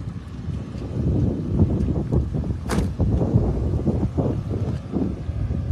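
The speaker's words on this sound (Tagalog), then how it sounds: "Super lakas ang hangin dito ngayon." Strong wind roars and buffets the microphone continuously, loud and close, with rough gusting surges and a hint of water nearby.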